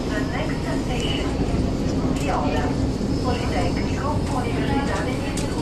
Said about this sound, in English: So this is the inside the metro.